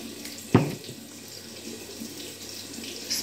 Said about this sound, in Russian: Пока теплая вода пойдет.